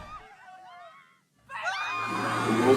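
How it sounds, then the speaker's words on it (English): A crowd of many voices screaming together, rising loud and sustained after a short pause that follows a few thin, distant cries. "The world is screaming."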